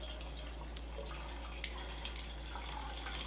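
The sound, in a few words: tap water filling a thermos container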